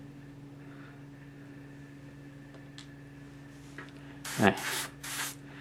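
An airbrush spraying paint while building up skin texture gives two short hissing bursts near the end, with a faint steady hum underneath and a single brief spoken word just before.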